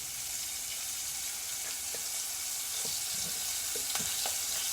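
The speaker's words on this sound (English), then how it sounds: "Yep, I think my oil's hot enough. You can hear it sizzle." Hot frying oil sizzles steadily in a pan before onion rings go in, a constant bright hiss with a few faint pops and clicks scattered through, no voices.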